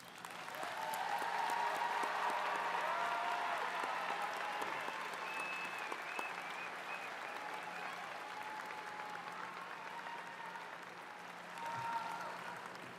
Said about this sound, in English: receive recognition for your academic accomplishments with a round of applause